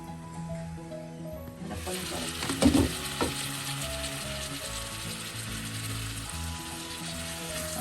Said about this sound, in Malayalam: 2 മിനിറ്റ് ഒന്ന് വഴറ്റാം